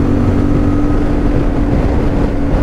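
A CFMoto 450MT motorcycle cruising in sixth gear at highway speed, with a steady, loud drone of engine hum and wind roar running continuously and evenly throughout.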